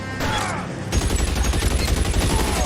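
Tommy gun in L.A. Noire, a close, loud rapid-fire burst of evenly spaced hammering shots that kicks in after a short swell of game sound and runs steadily to the end.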